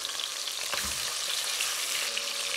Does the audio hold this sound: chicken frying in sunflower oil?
yes